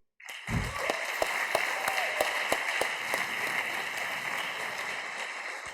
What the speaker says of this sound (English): a big applause to you